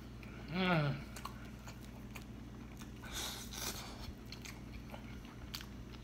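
Someone bites into and chews a toasted cheddar chalupa taco smothered in nacho cheese, with a crisp crunch early on followed by soft, wet chewing, quiet and close, with a short vocal murmur near the start.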